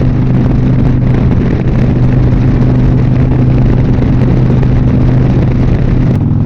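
A motorcycle engine runs steadily while riding, a continuous loud drone with a low, even hum and broad road and wind noise throughout, with no one talking.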